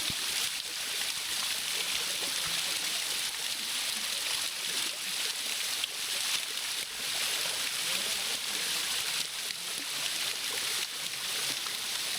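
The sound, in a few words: waterfall water falling into a pool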